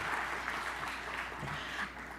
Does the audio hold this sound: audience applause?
yes